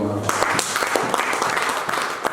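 A church congregation breaks into applause to acclaim Jesus, starting after a brief voice and continuing as a full, steady burst of clapping, with talk still audible underneath.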